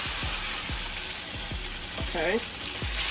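Pork chops sizzle and fry in a pan on the stove, a steady close hiss with repeated low thumps and scrapes of stirring, and a voice speaks briefly.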